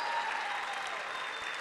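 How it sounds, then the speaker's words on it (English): An audience at a high school teacher education academy announcement applauds instructional leaders, a brief, even wash of clapping at moderate distance with no talk. "Let's give them a round of applause"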